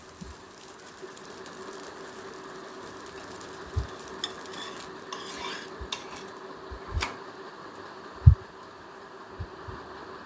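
A dosa frying on a hot pan gives a steady, soft sizzle throughout, broken by a few light metallic taps and scrapes, one sharper knock near the end.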